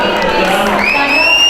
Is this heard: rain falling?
no